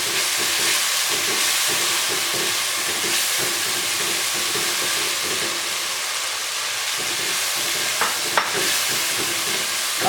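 Spices roasting for aloo ka bharta in a home kitchen pan, a steady loud sizzle and frying hiss running continuously throughout, with faint stirring scrapes.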